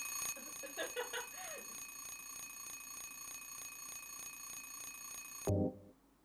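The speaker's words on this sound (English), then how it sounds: "Oh, it's an alarm clock, not a phone." An alarm clock rings in the Silent Hill 3 video game, a steady repeating electronic trill with regular pulses lasting several seconds over a faint game background, then cutting off abruptly with a short thud.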